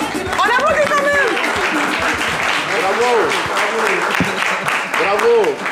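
A French television studio audience claps steadily throughout, with voices calling out and cheering over the applause.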